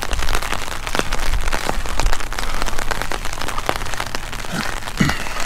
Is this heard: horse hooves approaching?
no